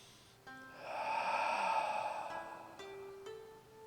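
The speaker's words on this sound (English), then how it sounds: "think about breath in and breath out. And this is where we can practice that slow," Slow, deep breathing during tai chi practice, a single long audible inhale and exhale heard up close against a quiet room with faint background tones.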